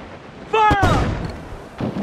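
Ship cannons boom in a naval battle in the pirate game Assassin's Creed IV: Black Flag, one heavy close blast right after a shouted voice, followed by a rumbling tail and a fainter thud near the end.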